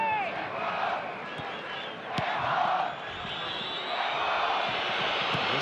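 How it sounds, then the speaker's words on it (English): Home football crowd at an Argentina versus Ecuador World Cup qualifier, a broad steady wash of stadium noise with swelling whistles and jeers rising and falling throughout, moderately loud and continuous. "there's whistles from the home crowd"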